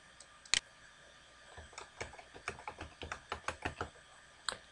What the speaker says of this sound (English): go back to the browser and Type in your domain name.